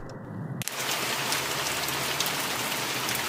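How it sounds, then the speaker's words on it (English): Heavy rain pours steadily in the video game The Mortuary Assistant, a loud, dense hiss that starts abruptly and then continues close and unbroken. "Ooh, the rain."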